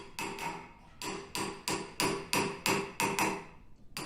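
A hammer strikes a flat circle of silver over shaped formers to raise a beaker, ringing out in about a dozen sharp metallic blows at a steady, unhurried pace, each blow decaying quickly, with no voices.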